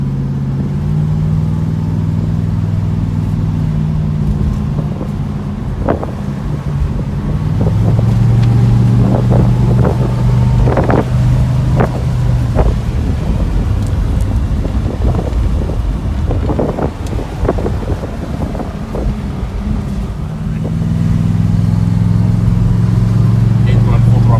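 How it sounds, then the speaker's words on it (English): A 1970 Plymouth Road Runner engine runs steadily under wind buffeting the microphone, its low drone rising and falling as it accelerates, with scattered clicks and knocks. "I'm going to stay quiet here for a second just so we can hear the engine."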